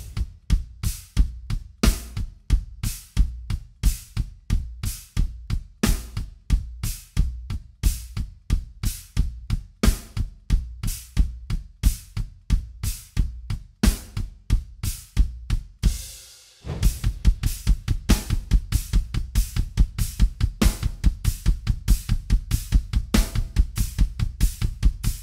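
A drum kit plays a halftime groove with a china cymbal crash and rapid double-kick triplets, a fast, dense stream of evenly spaced kick hits under regular crashes. A brief break near the end leads into an even tighter, denser run.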